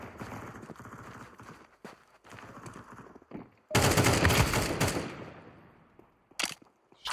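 Gunfire from Counter-Strike 2 in bursts: scattered rapid shots early on, then a loud, dense volley of automatic fire that fades gradually, with a final sharp burst near the end.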